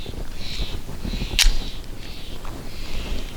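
One sharp, loud report from a CCP 9mm pistol firing ARX ammunition at a shooting range, cutting through steady background noise.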